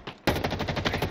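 Rapid automatic gunfire from Halo Infinite multiplayer, a loud close burst of evenly spaced shots firing after a brief quiet start.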